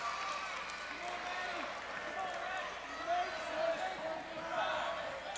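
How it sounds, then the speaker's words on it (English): Noisy home-crowd din from Blue Crew fans in a high school boys basketball gym, North Penn against Council Rock, a steady roar with swelling shouts and scattered voices throughout. "Verbit makes the first despite the crowd noise from the Blue Crew"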